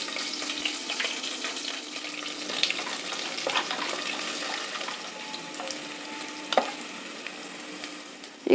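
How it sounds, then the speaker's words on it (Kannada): Urad dal and chana dal roasting in oil with ginger, curry leaves and green chilies for upma, a soft continuous sizzle with occasional stirring scrapes and clinks, fairly quiet and without talk. "ಈಗ ಉದ್ದಿನಬೇಳೆ ಕಡಲೆಬೇಳೆ ರೋಸ್ಟ್ ಆಗಿದೆ"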